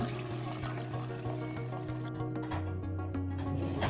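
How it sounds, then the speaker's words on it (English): Broth pours steadily into a pan of garlic for a mushroom French dip, a continuous rushing, splashy hiss over a low background hum. "I'm going to pour in"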